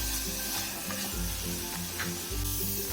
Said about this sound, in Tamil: இப்போ இதுல தக்காளி ஆட் பண்ணிக்கலாங்க. தக்காளியும் ஒரு 2 நிமிஷத்துக்கு வதங்கட்டும்